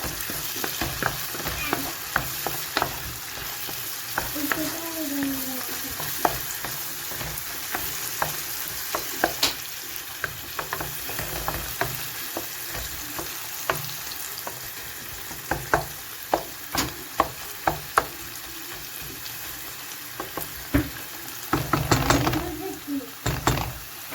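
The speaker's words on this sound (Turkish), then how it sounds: "Şu an başında bekliyorum artık sık sık karıştıracağım" Steady sizzling of food frying in a pot, with frequent scraping and clinking of a utensil stirring, close and continuous.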